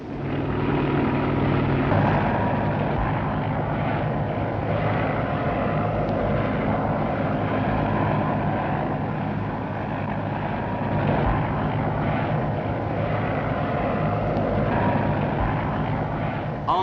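Steady, droning rotor and engine noise of a taxi helicopter in flight near the Battersea heliport by the River Thames, London, 1964, constant and fairly loud with no talking.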